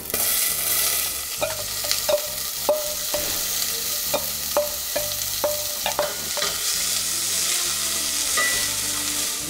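Onions and ginger sizzle in hot oil, with a loud, steady fry broken by regular clacks of a utensil stirring the pan.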